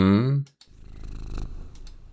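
A cat in a forest level of a Pac-Man-style game purrs with a low, continuous rumble that follows a brief spoken voice.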